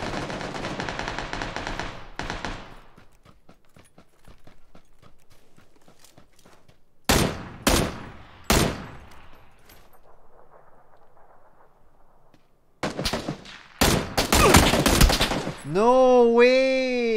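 Gunfire from the video game PUBG comes as a few loud, close bursts of sharp shots separated by quieter gaps, with a couple of later blasts followed by a warbling in-game tone at the end, and no talk over it.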